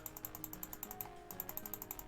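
A computer mouse clicks rapidly while painting with a brush in Photoshop, a steady run of small, evenly spaced clicks, about a dozen in two seconds, faint and close with no speech.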